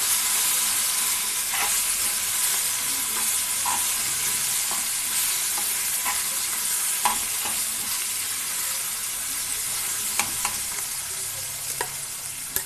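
Brinjal chutney is stirred in a pan over a low flame with a steady soft sizzle and occasional scraping stir strokes, close by and without speech.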